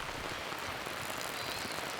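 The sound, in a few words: rain falling outdoors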